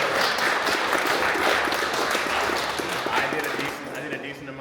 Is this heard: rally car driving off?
no